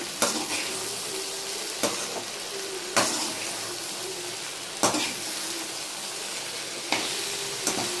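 Okra sizzling steadily in a hot pan, with sharp scraping stirs breaking in every second or two; close and fairly loud, no voices.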